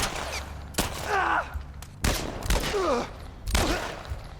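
Gunfire in The Last of Us Part I video game: three loud, sharp shots spaced about a second apart, each followed by a short echoing tail and a brief cry.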